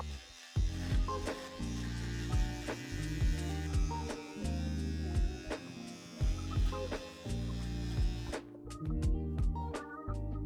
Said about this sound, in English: Then I'm shaving my cheeks and neck.